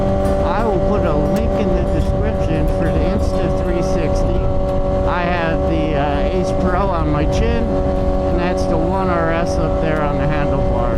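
A Kawasaki ZX-10R motorcycle cruises along a road on a sunny day, its engine a steady loud drone with wind rush throughout, while a rider talks over it.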